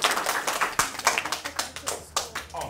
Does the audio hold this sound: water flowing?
no